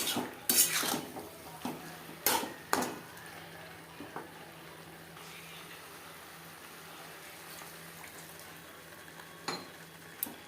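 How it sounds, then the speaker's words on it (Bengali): Jackfruit being stirred into spice masala in a pan, with a metal spoon clanking sharply against the pan a few times over a soft continuous sizzle, the scraping fading into quieter frying. "মশলার সাথে এঁচড় বেশ ভালো করে মিক্সড করে দেব।"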